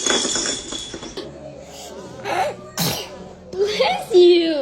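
A baby sneezes in a home setting, with short bursts mixed among other noises, clinks and voices; the sneezes come close and fairly loud amid chatter.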